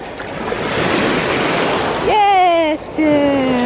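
Sea waves roll onto the shore in a long rising wash of surf, followed by a person's drawn-out vocal exclamations over the water.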